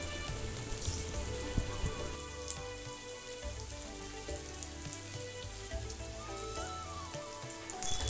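Bora fritters fry in hot oil with a soft, steady sizzle and crackle, heard alone at low volume.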